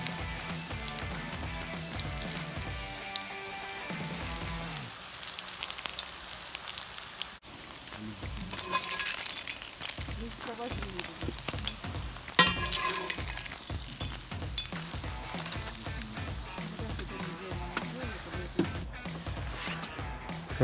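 Food frying in a pan during a roadside cooking session, a steady crackling sizzle running throughout with scattered pops and some stirring clatter, fairly close and continuous, with no talk.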